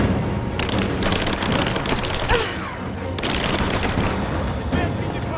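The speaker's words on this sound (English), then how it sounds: "Gunshots!" Gunfire crackles in a Rise of the Tomb Raider firefight, with dense bursts of rapid shots and a sharp boom partway through, all under a steady, noisy battle ambience.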